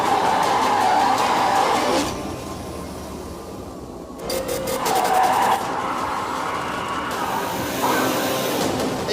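A simulated Bugatti Rimac electric hypercar drifts in a driving simulator, giving a steady motor whine and tyre scrub that dips midway, then swells again and holds.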